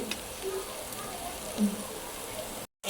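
Khesari lentil fritters frying in oil, a soft, steady sizzle heard close up for a few seconds before cutting off abruptly.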